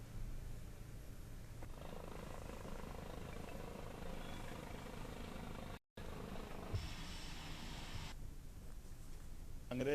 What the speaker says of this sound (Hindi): पूर्व राष्ट्रपति का हेलीकॉप्टर उतरते ही